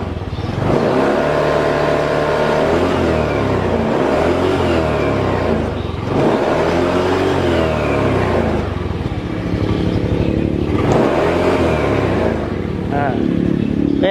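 A Jupiter motorcycle engine idles and is throttled up in repeated revving swells, loud and close, with a voice talking over parts of it.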